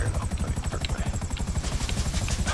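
A Buzzard helicopter sets down in GTA 5, its rotor churning as a steady, close, rhythmic low thumping that runs the whole time with a bright hiss on top.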